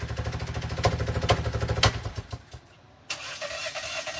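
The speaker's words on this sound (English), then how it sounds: "My car just randomly tries to start by itself." A car engine cranks over and over on its own, the starter whirring in steady pulses with a few sharp clicks, then stops briefly before another attempt starts up, heard nearby and fairly quiet.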